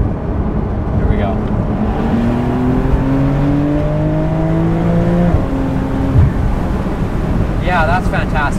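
A 2020 992-generation Porsche 911 Carrera S Cabriolet engine pulls hard under acceleration, its note rising steadily in pitch for several seconds before easing off, heard from inside the car over wind noise with occasional voices.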